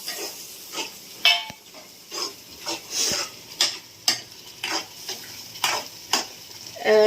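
Quail eggs dropped into a sizzling gravy for kaadai muttai thokku, then stirred with a spoon, giving repeated scraping and clinking strokes over a steady frying hiss.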